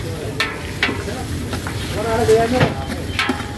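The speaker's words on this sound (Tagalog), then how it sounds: "Bago ginisa ni kusinero natin" Boiled meat sautés in a pan for a birthday meal, a steady sizzling hiss with light stirring and scraping knocks throughout, while people talk in the background.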